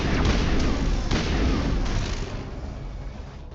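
Loud, continuous combat in the Mass Effect finale, with sustained gunfire and booming explosions layered into a dense roar that eases slightly toward the end, and no voices.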